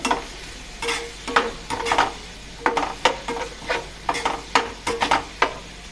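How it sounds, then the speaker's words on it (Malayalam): Vegetables frying and being stirred in a pan while making paneer tikka masala: steady close sizzle broken by repeated scraping stirs in an uneven rhythm, with no talking. "പനീർ ചെയ്ത പോലെ തന്നെ നമുക്കൊന്ന് തിരിച്ചിട്ട് മറിച്ചിട്ടൊക്കെ കൊടുത്ത് ഒന്ന് അത് ഫ്രൈ ചെയ്തെടുക്കാം."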